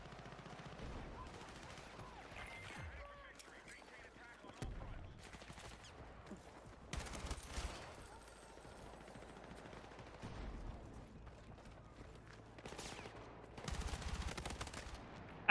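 Star Citizen video game gunfire comes in several loud bursts of rounds spread across a long stretch, separated by quieter gaps, with distant crackle and muffled background noise between volleys.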